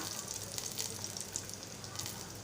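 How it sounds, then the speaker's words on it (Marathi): Mustard seeds, cumin and curry leaves sizzling in hot oil, a steady bright hiss with scattered tiny pops and crackles, close and moderately quiet. "मोहरी जिरं कढीपत्त्याची मी दोन पानं घालत आहे"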